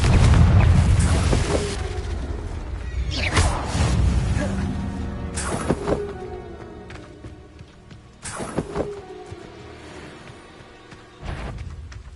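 Loud booming blasts from a Confringo fire spell in the Hogwarts Legacy game, several heavy explosive bursts spaced across the span with rumbling tails, set amid game combat noise.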